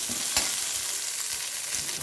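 Sliced onions frying lightly in a pan for a red amaranth leaf dish, giving a steady, close sizzle with a faint scrape of stirring, and no voices.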